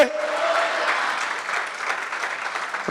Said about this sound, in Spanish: Dale un aplauso a Cristo, aleluya, y a su nombre.